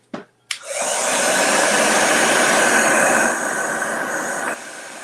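Heat gun or hair dryer blowing steadily at close range over acrylic paste on a craft project, a broad continuous whoosh after a couple of short clicks, holding for several seconds, then dropping slightly near the end.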